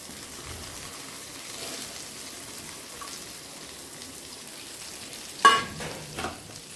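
Tender tamarind leaves tossed into a pan of egg curry give a low, steady sizzle throughout, with a brief louder clatter of stirring near the end and a smaller bump shortly after.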